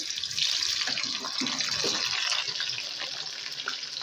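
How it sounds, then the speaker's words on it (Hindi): Okra (bhindi) dropped into hot oil and frying over medium heat, a loud, dense, steady sizzle up close with no talking. "हमने ऑयल जो है चढ़ाया हुआ था और वो गर्म हो चुका है और अब हम भिंडी डालेंगे"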